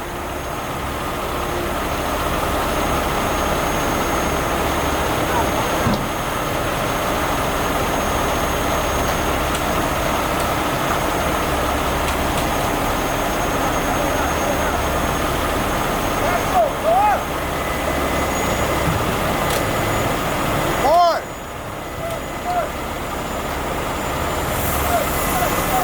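Heavy rescue tow truck engine droning steadily under load during a freeway recovery of an overturned trailer loaded with 40,000 lbs of pizza, a loud continuous low rumble held throughout with brief clanks and squeaks near the end.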